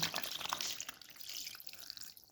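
Salted brine poured over homemade feta-style cheese in a container makes a soft, steady splashing trickle that fades over about two seconds, faint and close with no talk.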